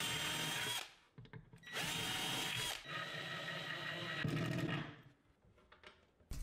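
A power drill-driver whirs in several short bursts, pausing briefly between runs, loud and close with small mechanical clicks as it drives screws into hinges on a wooden bench.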